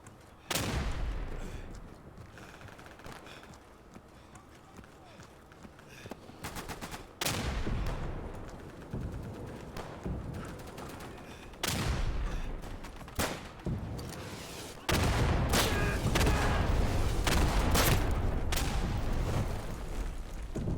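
Gunfire and explosions in the World War II shooter Day of Infamy, with sharp loud shots, rapid bursts and heavy booms, including a grenade, scattered unevenly across the scene.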